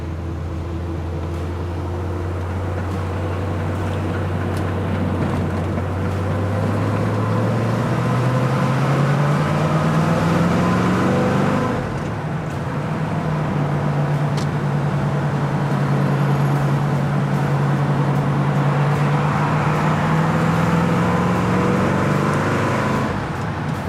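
A 350 V8 engine in a 1967 Corvette runs steadily at close range, its low rumble rising in pitch partway through, dipping briefly, then climbing again.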